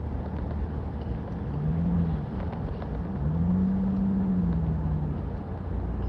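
Steady low engine and road rumble from inside a car creeping through town traffic, with a faint tone that swells and fades; no one speaks.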